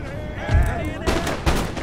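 Musket volleys from line infantry in the strategy game Empire: Total War, three distinct crackling bursts of massed gunfire about half a second apart over a low battlefield rumble, with someone talking throughout.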